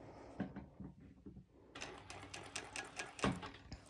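A cover stitch sewing machine runs on mesh fabric for a sporty top, a quiet mechanical rattle starting with a few clicks and then a steady rapid stitching burst close by.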